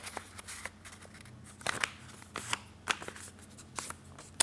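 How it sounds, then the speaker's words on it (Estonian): A sheet of clean paper is folded in half and then in half again, giving faint, close crinkles and soft creasing rustles in short irregular bursts. "ja voldime teist korda veel pooleks."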